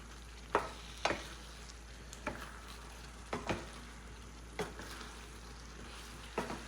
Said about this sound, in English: make sure to stir well